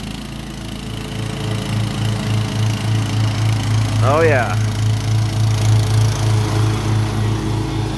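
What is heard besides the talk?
Cub Cadet XT1 Enduro garden tractor mowing grass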